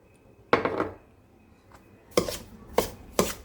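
Grated dried coconut is stirred into roasted rava in a pan with short scraping strokes: one burst, a pause, then three quick scrapes close by.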